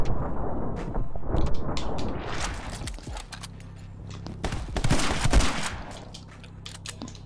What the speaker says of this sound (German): Sie fangen an zu schießen